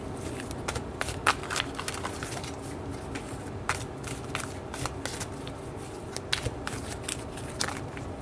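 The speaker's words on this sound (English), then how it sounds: "let's pull some Lightworker oracle cards" Oracle cards being shuffled by hand: a steady run of soft papery riffles and flicks with sharper snaps, close and fairly quiet, with no one speaking.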